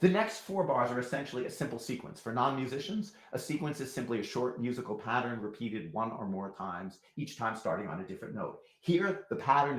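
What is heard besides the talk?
No everyday noise stands out behind the speech.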